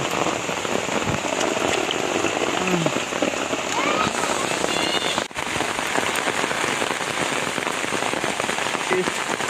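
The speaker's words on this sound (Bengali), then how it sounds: "বৃষ্টি হইতেছে সারাদিন" Steady rain falls all day onto a pond or field during prawn fishing, a dense, even hiss of drops close by with a brief dip and knock midway.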